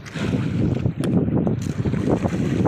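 Strong wind roars steadily across the microphone out at sea while fishing from a small boat, loud and continuous with gusty swells.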